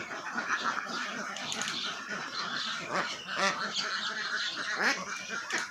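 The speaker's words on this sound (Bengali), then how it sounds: "কত সুন্দর হাঁস" Ducks on a farm flock, where some birds are falling ill, give a close, overlapping run of nasal quacks and honking calls that come in uneven bursts throughout.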